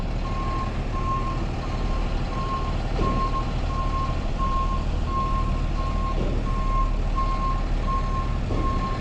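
A light-duty tow truck reversing at its yard, its backup alarm giving a steady, evenly spaced series of high beeps over a constant loud diesel engine idle rumble.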